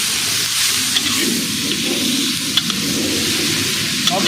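Sliced banana stem frying in oil in a pan, giving a steady, loud sizzle with faint stirring scrapes and occasional small crackles throughout.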